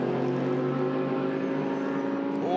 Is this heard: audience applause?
no